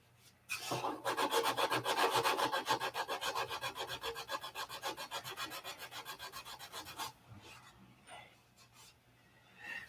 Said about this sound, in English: I might want to sand that with some 500